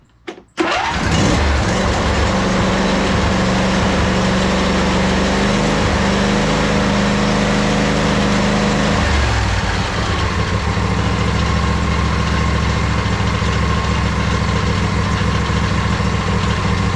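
A 2011 Craftsman PYT 9000 lawn tractor engine cranks and catches within a second, then runs loud and steady close by, its note dropping and settling into a lower idle partway through.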